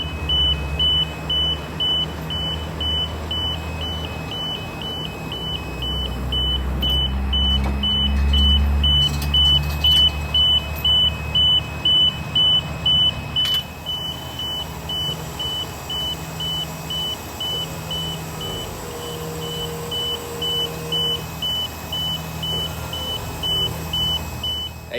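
A boom lift weighing about 15,000 pounds is driven onto a hotshot truck's trailer, giving off a steady, regular backup beep over a low engine rumble that stays loud and close throughout, with no talking.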